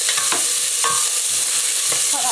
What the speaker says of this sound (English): I'm just going to add that chorizo, the onions, listen at that, and the garlics and the peppers